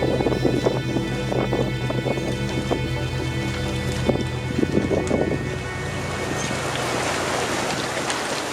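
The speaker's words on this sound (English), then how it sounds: "That is some wind." Strong wind in a Tomb Raider game location roars as a loud, steady, broadband rush with a faint tonal hum beneath, continuous throughout with no talking.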